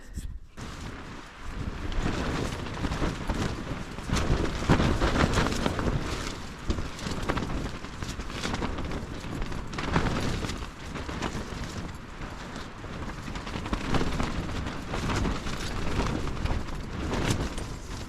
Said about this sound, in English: the wind's been blowing since like 1